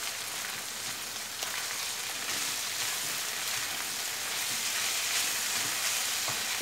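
Thick tomato paste sauce sizzles and spits steadily in a frying pan as it is stirred, a continuous close crackle with occasional scraping.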